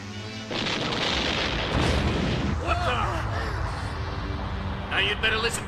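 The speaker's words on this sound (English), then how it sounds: "The explosion you just heard was the first one to go off." A time bomb goes off inside a building with a deep, booming blast that lingers into a rumbling roar, followed by crackling debris and voices talking over the aftermath.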